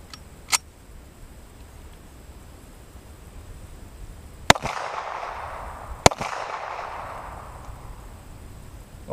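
A .45 ACP handgun fires a 230 grain FMJ round into a polyurea target, giving a sharp close crack. A couple of other faint clicks come before it, and a second crack follows with a hiss of noise that trails off.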